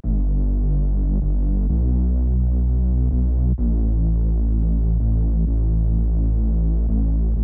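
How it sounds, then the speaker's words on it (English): Deep synthesized sub bass with a gritty, detuned reese bass layered on top, sustained and loud, with brief dips where the notes change. "Then there's the sub bass and reese bass."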